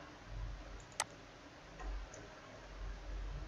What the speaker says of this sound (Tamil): ஒரு உதாரணத்துக்கு நான் ஏதோ ரேண்டமாக ஒரு நம்பரை டைப் பண்ணுறேன்